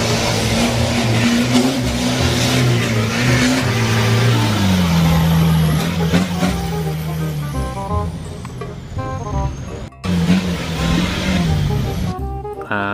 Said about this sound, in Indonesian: Wadidaw, ada mobil off-road.